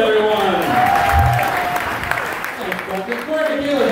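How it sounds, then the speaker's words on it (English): A comedy club crowd in Everett claps and cheers as a comedian walks on stage, the applause holding steady with whoops and raised voices rising above it. "Please welcome to the stage, my good buddy, with a big warm round of applause"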